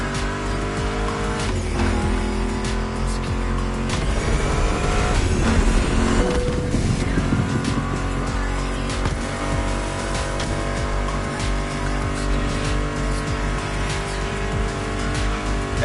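Racing car engines roar continuously in The Crew Motorfest, with tire squeal and skidding rising above steady music throughout.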